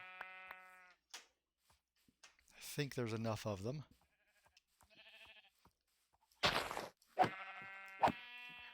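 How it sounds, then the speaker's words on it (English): Sheep in the video game Minecraft bleat in several short, separate calls spread between bursts of game noise, with a player talking over part of it. "Fortunately, I see some sheep."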